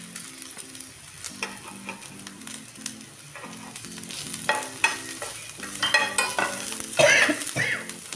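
Finely crushed peas hit a hot oiled pan for a homemade momo filling, giving a steady sizzle with repeated spoon-scraping stirs that grow louder and busier toward the end, with no voices.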